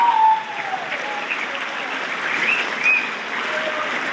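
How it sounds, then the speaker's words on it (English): Applause at a high school spring awards assembly for Growth Award winners, a steady wash of clapping from a crowd in a large hall, heard at a moderate distance throughout. "Please give them a round of applause."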